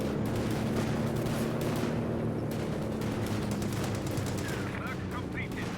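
M1919 machine guns fire in Company of Heroes 2, loud rapid bursts and rattling gunfire layered over dense battle noise throughout.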